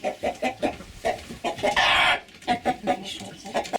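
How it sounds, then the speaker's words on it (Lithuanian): Farmyard hens and a rooster on a small Lithuanian sheep farm cluck in a run of short, close, repeated calls, with one louder drawn-out squawk in the middle and no talking. "O, vištos yra čia. Čia yra vištos ir gaidys."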